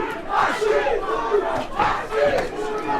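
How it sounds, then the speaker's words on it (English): A boxing crowd chants a fighter's name, Wasim, in loud, rhythmic two-beat shouts that rise and fall in waves across a packed arena. "Crowd chanting Wasim, Wasim"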